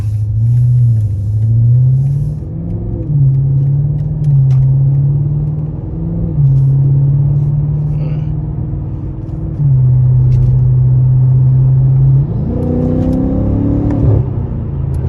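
A BMW M5 Competition engine rumbles steadily up close, revving up several times with rising pitch, then settling back to a deep idle before another surge.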